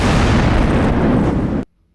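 A bomb blast from an action drama about the 2008 Mumbai hotel terror attack, a loud, sustained roaring explosion that rumbles for over a second and a half, then cuts abruptly to silence.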